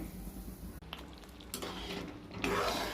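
Semolina is poured slowly and stirred into boiling water in a pot for tomato upma, producing soft scraping, bubbling and spoon-against-pot clinks at close range, quiet and without speech.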